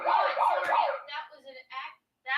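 A siren accidentally set off by a chin, a short warbling wail of three rising-falling cycles, loud and close, followed by broken bursts of sound.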